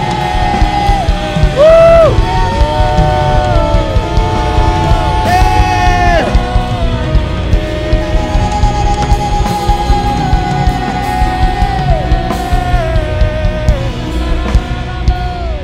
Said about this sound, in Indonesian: Mari umat pemenang itu berikan sorak-sorai bagi dia.